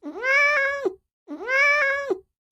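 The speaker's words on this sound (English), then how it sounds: "she heard a cat mew loudly and scratch at the door." A cat meows loudly twice, two long, evenly spaced calls with rising and falling pitch and a short gap of silence between them, close and clear.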